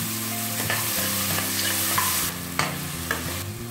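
Onions and tomatoes sauté in a hot pan with a constant sizzle, broken by occasional clicks and scrapes of stirring.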